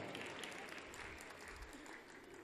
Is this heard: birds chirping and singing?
no